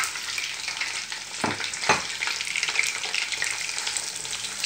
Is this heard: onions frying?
yes